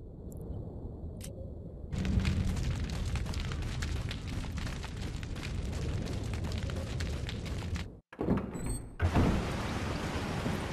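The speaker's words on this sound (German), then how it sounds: "Oh, es regnet." Rain in the video game Resident Evil 4, a dense steady roar of downpour starting abruptly after a quiet moment, dropping out briefly near the end before resuming, loud and continuous.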